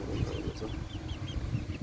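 A village hen clucks in a farm coop with other poultry nearby, short repeated clucks over a busy low rustling background, fairly close.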